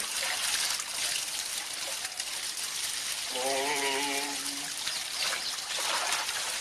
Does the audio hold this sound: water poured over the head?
yes